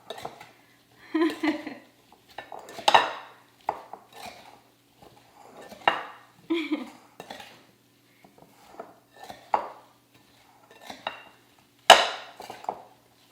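Apple pie filling mixed with sugar in a bowl, irregular clinks and scrapes of a utensil against the bowl in scattered bursts with quiet gaps, close and moderately loud.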